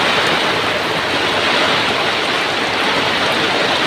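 Water rushing into a space at a village market after a vehicle is put in reverse gear, a steady, loud, broadband flowing and splashing roar that continues unbroken throughout.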